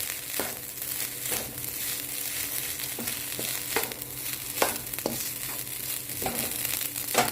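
Rice with egg, spinach and chorizo sizzles steadily in a hot pan while a utensil stirs and scrapes through it, giving repeated soft scraping strokes over a continuous fry hiss, close and moderately loud, with no talking.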